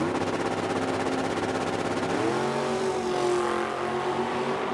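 A 1979 Mustang drag racing down the track at the Oil City Classic in Edmonton, its engine roaring loud and close, the pitch climbing through the gears as it pulls away.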